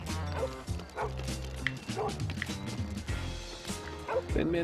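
A dog barks in the Lego City Undercover video game, several yapping barks and whimpers scattered over a busy backdrop of game music and effects, with no speech over them.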